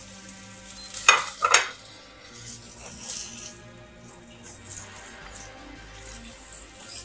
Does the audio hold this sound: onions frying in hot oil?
yes